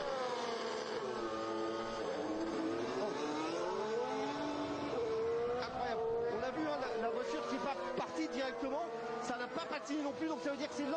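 Lewis Hamilton's Formula 1 car at the 2021 Spanish Grand Prix practice session, its high engine note rising and falling through gear changes and revs, under steady excited commentary.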